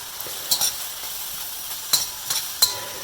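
Kale leaves and chopped zucchini stir-fried in a wok without oil, a soft steady hiss broken by a few sharp spatula scrapes and clinks, close and fairly quiet, with no voices.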